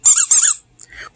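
A squeaky toy gives two quick, sharp, high squeaks close by, followed by a couple of fainter little squeaks.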